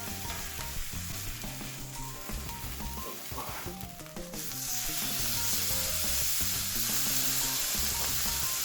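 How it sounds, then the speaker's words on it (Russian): Beef steak sides searing in a hot pan, with a steady close sizzle and frying crackle running throughout, growing slightly louder and more even in the second half. "Теперь еще буквально по минуте обжарим боковины, то есть придадим им цвет красивый"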